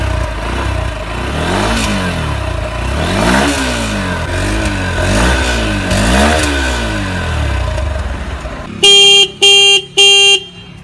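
Honda XBlade motorcycle, a 2021 BS6 160cc model: after several loud exhaust revs the engine cuts out, then the horn sounds three short, loud toots close by.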